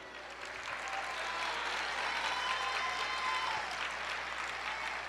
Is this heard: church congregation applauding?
yes